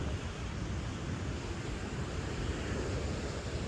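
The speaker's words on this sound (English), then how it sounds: "you don't turn your back on these waves out here" Ocean surf rolls onto Iceland's black sand beach with a steady, broad roar, mixed with gusting wind buffeting the microphone and no voices.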